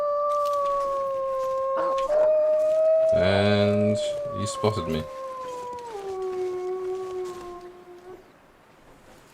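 Wolves howl in The Long Dark, long wavering tones gliding and sliding in pitch, layered over one another and fading toward the end, with someone speaking briefly over them.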